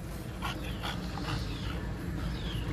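Several dogs whimper and yip outside their kennels, drawn by the smell of food, in a fairly close chorus of high whines over a steady low background noise.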